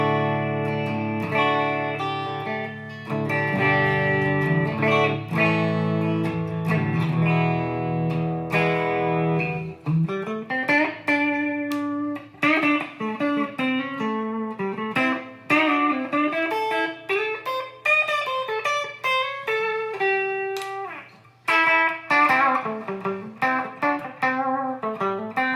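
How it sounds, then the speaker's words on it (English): A clean electric guitar tone through a Fender Mustang GTX100 amp set to a Deluxe Reverb preset with light compression and spring reverb: sustained chords at first, then picked melodic lines and arpeggios ringing out with reverb tails, no talking. "It's just a deluxe reverb with a little bit of compression and some spring reverb in there as well."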